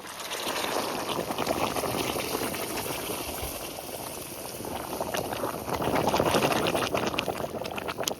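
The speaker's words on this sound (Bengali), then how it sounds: "এবার আমি গরম জল দিয়ে দিচ্ছি" Hot water poured into a pot of browned goat meat curry, a continuous rushing, bubbling hiss that swells near the end, close and without talk.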